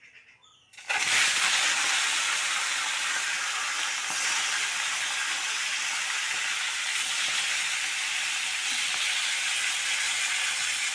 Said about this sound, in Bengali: মাছটা ভাজা তুলে দেব।